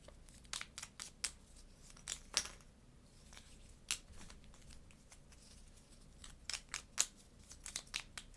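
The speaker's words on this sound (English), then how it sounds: "so we have to shuffle these up" Board game cards for Nova Roma are shuffled by hand in a series of quick, crisp riffling bursts, close and fairly quiet, with short pauses between the snaps.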